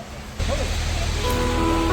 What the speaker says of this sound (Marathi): हा आहे चिखलदऱ्यातील भीमकुंड येथील प्रसिद्ध धबधबा